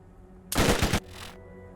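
An SMG in the shooter Borderlands fires one short, loud burst of rapid shots lasting about half a second. A softer tail trails off after the burst over a quiet game backdrop.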